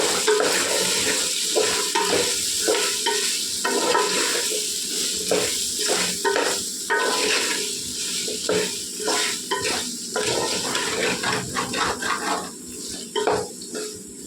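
Chopped vegetables for veg pulao, salted in a pan, are stirred and scraped with a spoon, a rhythmic series of scraping strokes over a soft steady sizzle, close and fairly loud.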